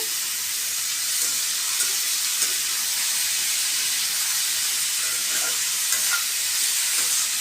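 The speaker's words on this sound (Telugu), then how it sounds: "కట్ చేసిన ముల్లంగి బాగా కలుపుకోవాలి." Chopped radish curry sizzling and frying in a pan on high flame, a steady broad hiss with faint scraping stir sounds scattered through it and no talking.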